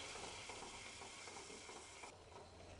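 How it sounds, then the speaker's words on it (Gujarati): Masala sautéing in oil in a pan while cooking a drumstick (saragva) vegetable curry with peanuts, giving a steady, close sizzle with soft stirring scrapes throughout and no talking. "મસાલામાંથી તેલ છૂટું પડે ત્યાં સુધી સાંતળી લેવાનો છે"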